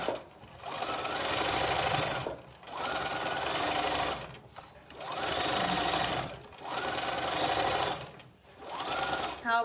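A sewing machine stitches straight seams on a summer skirt with an elasticated waistband, running in four steady bursts of a couple of seconds each with brief pauses between, fairly close and alone.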